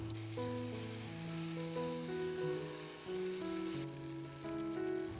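Paprika frying in a pan as grain is tossed in, a steady soft sizzle running throughout beneath a melodic background tune.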